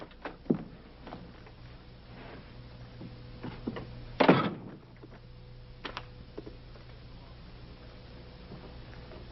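A door is opened indoors, heard as a single dull knock and rattle midway through an otherwise quiet stretch of faint ticks and small thumps.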